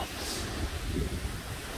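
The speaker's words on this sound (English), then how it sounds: "I know you guys can hear those, the wind breaking through the lanai" Hurricane Ian wind rushes and buffets steadily through a screened lanai in a broad, roaring hiss, gusting unevenly with low rumbling swells and no voices.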